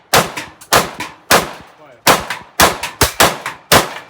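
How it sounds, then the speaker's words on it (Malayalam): Loud, unsilenced gunshots at a Russian shooting range, about ten sharp cracks in quick, uneven succession with brief ringing tails, close and unaccompanied by speech. "ഇപ്പോൾ നമ്മൾ കണ്ടുകൊണ്ടിരിക്കുന്നത് സൈലൻസർ ഇല്ലാത്ത തോക്കും."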